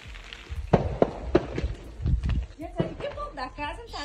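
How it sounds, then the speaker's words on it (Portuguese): Irregular sharp pops and crackles from a roadside wildfire burning near homes, sounding like gunshots, some loud and close, scattered over a low rumble with faint voices in the background. "foram acordados pelo barulho das chamas"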